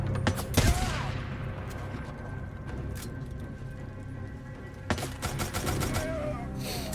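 Bursts of rapid gunfire ring out in the video game Days Gone, a loud volley at the start and another near the end, with sporadic single shots in between over a rumbling game backdrop.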